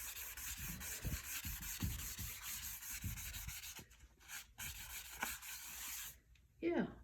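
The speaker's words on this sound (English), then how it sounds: "I'm just gonna rub it in my sketchbook off of this napkin." Paint rubbed off a napkin onto a sketchbook page makes repeated scratchy, papery strokes, close and fairly loud, slowing near the end with a brief final rub.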